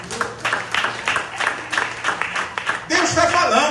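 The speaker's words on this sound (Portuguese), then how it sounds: "Aplausos eternos." Congregation clapping during a family church service, scattered rhythmic hand claps over a low sustained tone, with voices and louder crowd noise rising near the end.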